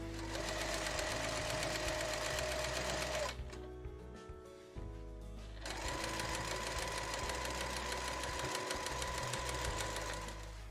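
A sewing machine fitted with a stepped presser foot stitches the pocket of a fur-lined round tote bag. Its close, fast, steady mechanical whir pauses briefly partway through, then resumes.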